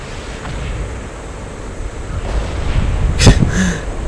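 Artillery shells exploding around a tank in a video game, low rumbling blasts building to a sharp close impact with a brief burst of debris, over a constant windy roar.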